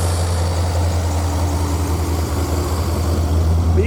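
A 1984 Corvette Z51 idles steadily close by, a deep even rumble with a strong low hum and no voices.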